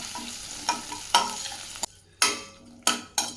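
Green chillies, dry chilli, ginger and garlic frying in a pan for dal fry, with a steady sizzle broken by several sharp scraping stirs of a spoon against the pan, close and fairly loud.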